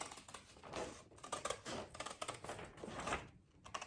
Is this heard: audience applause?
no